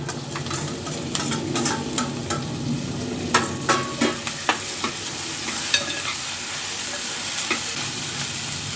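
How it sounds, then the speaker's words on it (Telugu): Okra pieces sizzle in a little oil in a pan with onions and turmeric, a steady frying hiss broken by close, sharp scraping taps of a spatula stirring the pan. "కొంచెం నూనెలో బెండకాయ ముక్కలు గోలాలి."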